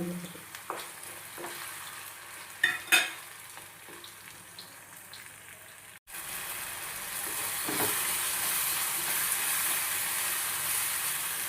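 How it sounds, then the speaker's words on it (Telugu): Ground masala paste with turmeric hits a hot pan for a gravy curry: after soft scrapes and a couple of knocks, a sudden louder, even sizzle takes over and holds steady. "మిక్సీ పట్టిన పేస్ట్ వేసి పచ్చివాసన పోయేదాకా వేడి"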